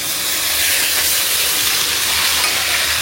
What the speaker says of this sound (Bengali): এই যে এই তেলেই ইলিশ মাছগুলো দিয়ে দিব